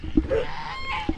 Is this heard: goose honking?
yes